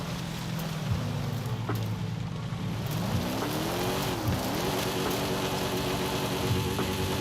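A car in a racing video game drives on, its engine droning steadily and the pitch rising and falling through gear changes over a constant wash of background noise.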